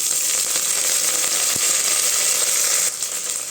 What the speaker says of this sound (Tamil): நல்லா கிண்டி விட்டுக்கலாங்க வெங்காயம் நல்லா வதங்கணுங்க